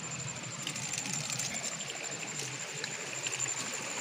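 Spring water trickling out of rock at a natural Konkan stream source, a steady soft babbling flow with light patter, even and continuous, heard alone without voices.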